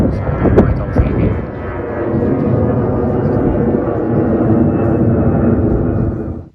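An airplane flies overhead near an airport by a coastal camping spot in Scotland. Its engine roar is a loud, continuous rumble that holds steady for several seconds under windy outdoor ambience.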